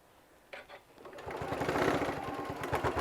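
A sewing machine runs top stitching along a folded pouch flap, starting with a few short bursts and then settling into a steady, rapid mechanical stitching rhythm close by.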